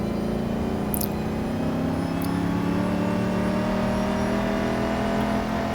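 Race cars accelerating from a rolling start in Real Racing 3 at Brands Hatch, a steady loud engine drone with rising whine as several GT4 cars, including Audis, Mercedes and Porsche, run together.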